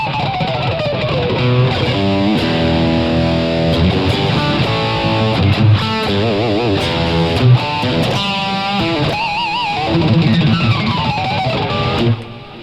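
Fender Jazzmaster electric guitar playing a melodic line with slides and vibrato over a full band, loud and continuous, with a clean, slightly twangy bright tone.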